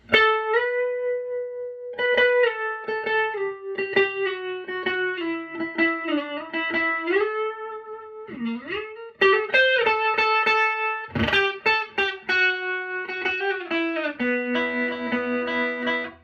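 A distorted electric guitar plays a sustained, bending riff from the solo of a song, with held notes and quick runs, loud and continuous, then a brief pause before it picks up again.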